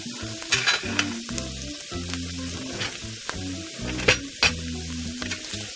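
Garlic sizzles steadily in hot oil in a pan, a continuous close frying hiss punctuated by a few sharper spits and stirring clatters.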